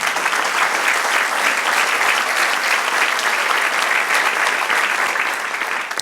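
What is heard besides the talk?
congregation applauding in church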